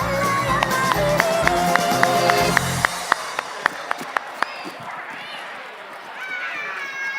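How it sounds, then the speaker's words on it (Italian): A crowd at a show in Ollolai, Sardinia, applauds a performer, with a burst of clapping under a loud voice for about three seconds, then scattered sharp claps and fading murmur. "Un applauso per Giucas Casella."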